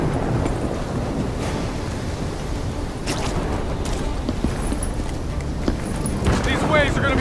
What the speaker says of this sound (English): These waves are gonna be a problem.